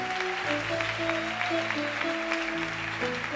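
A church congregation applauding loudly at a French-language sermon, a steady dense clapping wash over sustained keyboard or organ chords, with no voices.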